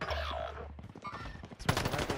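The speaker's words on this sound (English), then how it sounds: "Yo, somebody shooting me." Automatic gunfire from a Call of Duty Warzone match on Rebirth Island, with rapid bursts of shots that grow denser and louder toward the end.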